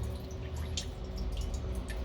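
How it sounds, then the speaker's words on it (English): Hydrosol drips steadily from a homemade distillation still down into a bucket, a quiet scattering of small drops over a constant low hum. "And underneath this is all your hydrosol. And then that drips down into this bucket,"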